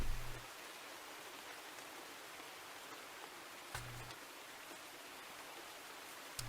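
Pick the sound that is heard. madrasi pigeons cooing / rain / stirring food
rain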